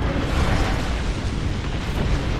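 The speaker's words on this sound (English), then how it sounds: "Heads up, we got an airstrike on us." Airstrike explosions in the Apex Legends video game, a dense continuous rumble of booming blasts, loud and close, with no pauses.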